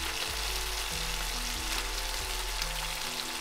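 Bacon fries in a pan with a dense, continuous sizzle and crackle, close and steady for the whole stretch, over a low electrical hum, no talking.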